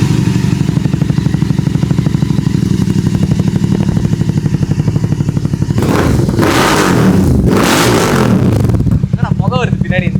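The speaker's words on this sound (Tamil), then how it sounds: "ஓகே गाइस, உங்களுக்காக ஸ்டார்ட் பண்ணி காட்டுறேன்." A GT 650 motorcycle's engine idles with a steady, loud thumping beat, then is revved hard in a few bursts, with someone speaking over it near the end.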